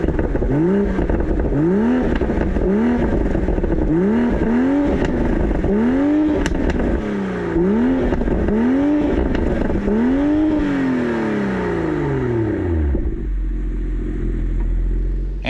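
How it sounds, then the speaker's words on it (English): A 2023 BMW Z4 M40i engine revs hard again and again, a run of loud rising and falling exhaust blips, before settling into a low, steady idle. "let me go ahead and fire it up. You guys can hear how it sounds real quick."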